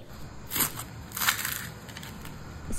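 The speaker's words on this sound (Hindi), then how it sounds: "कचौरी को तोड़ने की आवाज़ सुनिए" Crisp crunching and crackling as a fried kachori pastry is broken apart, with two or three louder snaps over a soft close-up rustle, no talking.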